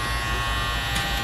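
A Wahl Cordless Detailer hair trimmer runs with a steady, close electric buzz for about a second, heard alone.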